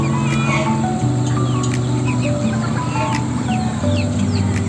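Many chickens cluck and chatter continuously in a busy coop, with a few sharper calls rising over the dense, steady flock noise.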